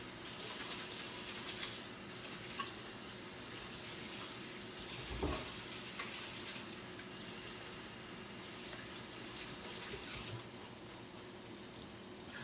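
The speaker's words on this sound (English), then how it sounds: "I can just come over here and wash my hands to be safe" Water runs from a kitchen tap onto hands being washed, a continuous soft splashing rush with a brief louder gush partway through, close by with no talking.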